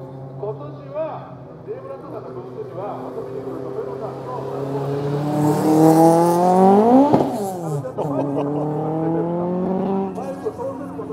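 Toyota AE86 CBY demo car at Tsukuba Circuit driving past, its engine note rising to a loud close pass and then dropping away as it leaves, with a voice talking over it.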